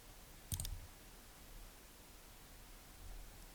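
A single crisp computer mouse click in a quiet room while working in cutting software, one short sharp tick near the start followed by faint hiss.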